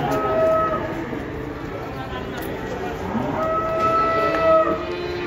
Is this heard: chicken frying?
no